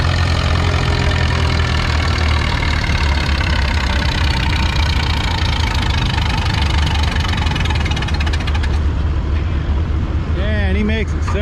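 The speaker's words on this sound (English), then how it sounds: "Got a Massey Harris 44 diesel." A Massey Harris 44 diesel tractor pulls a sled on a slippery track, its engine roaring loud and steady with heavy low knocking throughout, the note shifting and dropping away near the end.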